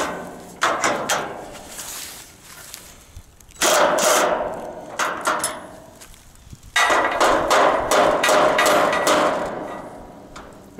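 A hammer taps a salvaged steel solar array frame into alignment, with loud, close, rapid metallic strikes in three bursts separated by brief pauses.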